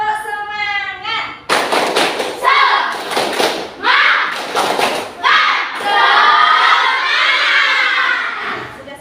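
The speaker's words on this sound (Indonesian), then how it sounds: "Tepuk semangat." A classroom of children performing a rhythmic spirit clap chant, loud bursts of sharp group clapping alternating with shouted chanting voices, close and energetic, with an adult voice at the start.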